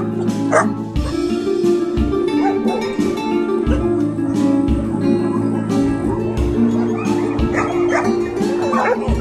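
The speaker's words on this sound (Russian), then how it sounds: "Щенки уже выросли." Puppies at a shelter bark and whimper repeatedly, with yips breaking through steady background noise and low hum, loud and close throughout.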